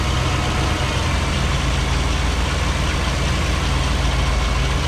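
A 1959 Chevy's 348 V8 idling while warming up, a loud, steady, close engine rumble with a dense broadband hum and no change in pace throughout.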